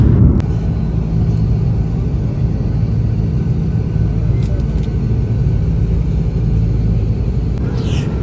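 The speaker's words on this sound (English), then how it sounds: "The plane we were traveling in was A330." Steady, loud low rumble and broadband roar inside the cabin of a Sri Lankan Airlines Airbus A330 in flight, continuous with a few faint brief clicks and no speech.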